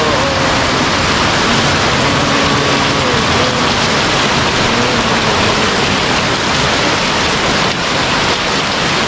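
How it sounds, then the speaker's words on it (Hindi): Heavy rain pours down around a small roadside dhaba in a village near Bogor, Indonesia, a loud, dense, unbroken roar of water that holds steady throughout with no clear voices above it. "ये देखें बारिश का मंजर"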